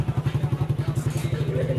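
A damaged KTM motorcycle after a failed stoppie stunt, ridden without a clutch: a rapid, pulsing engine putter with clattering, close and steady, with a voice talking briefly over it.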